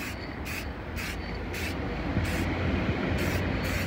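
Short hissing bursts of spray paint on a Citroen Berlingo van wheel, about seven quick puffs in a steady rhythm, close by over a constant background rumble.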